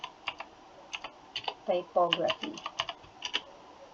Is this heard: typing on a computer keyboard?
yes